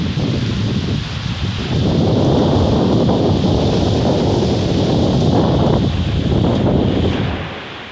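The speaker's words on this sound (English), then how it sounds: "Other burst of wind." Heavy wind gusts howl during a wind storm, a loud continuous roar with microphone buffeting that builds, holds steady, and eases slightly at the end.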